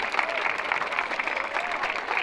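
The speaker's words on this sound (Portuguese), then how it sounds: "Muitas palmas, cadê gente? As palmas? Cadê as palmas?" Crowd applause at a Brazilian freestyle rap battle, Batalha da Aldeia, a steady dense wash of clapping that runs loud and unbroken throughout.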